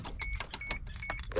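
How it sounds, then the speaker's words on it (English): Electric side mirrors on a 1995 car whir in short repeated motor bursts, a thin steady whine starting and stopping several times, close and fairly quiet inside the cabin. "We can move the mirrors electronically"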